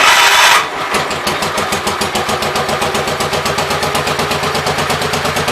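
Small engine on an 810 machine fires up and settles into a loud, steady, rapidly pulsing run after its choke cable is adjusted, heard close and alone.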